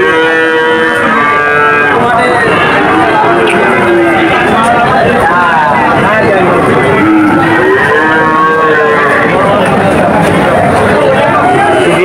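Cattle and calves at a busy rural livestock market moo loudly and repeatedly, close by, with overlapping calls. A murmur of crowd noise runs underneath.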